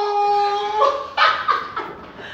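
A dog greets its owner arriving home, with a high whining tone followed by several sharp, close barks in quick succession.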